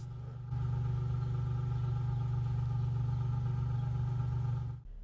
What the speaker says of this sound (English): upon starting it, the difference is pretty obvious. The idle is much smoother and stronger